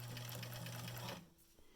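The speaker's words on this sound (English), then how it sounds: "we're going to stitch that. With a straight stitch." A sewing machine runs a steady straight stitch along a fabric surgical mask for about a second, loud and continuous, then stops and leaves only faint room noise.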